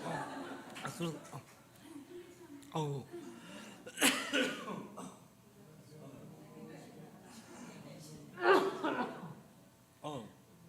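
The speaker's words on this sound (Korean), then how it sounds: "가끔 이렇게 마른 기침이 나올 때 참은 대책이 없는 것 같아요" A man coughs several times, dry and raspy, with breathy throat sounds and a soft chuckle between the coughs, during a church service.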